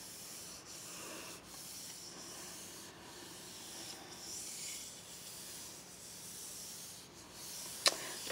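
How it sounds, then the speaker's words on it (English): Paper rubbed by hand onto a gel press plate, giving soft rhythmic swishing strokes roughly every second, quiet and close, ending with a brief crinkle of paper. No one speaks. "So I always try to rub it every different direction."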